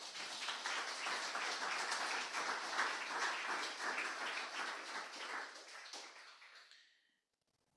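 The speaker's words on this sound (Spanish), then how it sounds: "Dale un aplauso a Jesús." A church congregation applauds together, steady soft clapping from a crowd lasting about six seconds before fading away into silence.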